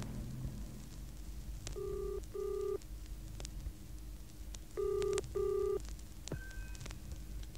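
A telephone dialled from inside a phone box: two bursts of paired electronic tones, a pause, then two more, followed by a brief rising click, all heard close against a low murmuring background.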